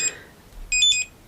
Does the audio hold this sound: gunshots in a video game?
no